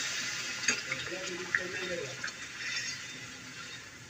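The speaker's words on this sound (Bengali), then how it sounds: "এখন আমি এই পর্যায়ে মানে অ্যাড করে দিচ্ছি পানি পরিমাণ মতো।" Water is poured into a pan while an ilish paturi dish cooks, giving a steady hissing splash that runs under a person talking nearby.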